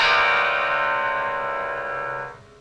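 A penny strikes piano strings, giving one bright, bell-like ring that sustains with rich overtones and slowly decays before cutting off.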